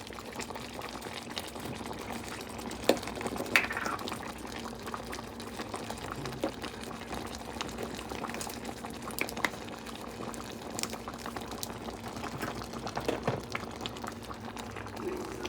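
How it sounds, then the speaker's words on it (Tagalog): Beef sinigang with okra bubbles in a pot, a soft, continuous rolling boil with small pops and gurgles, faint and steady with no talk. "Papukuluin muna natin para maluto yung okra."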